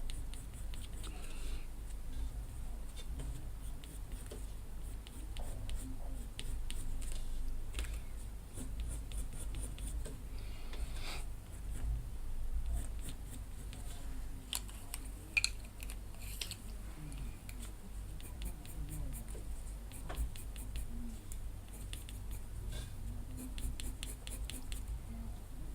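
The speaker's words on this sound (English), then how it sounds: "Get a little bit more pencil in there." A coloured pencil scratches across paper while a pet portrait is drawn, giving continuous soft, close scribbling with quick strokes and faint taps throughout.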